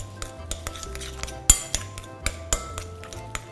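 Mashed potato with pepper and mayonnaise being mixed in a bowl, a close run of irregular utensil clinks and taps against the dish, a few louder knocks among them.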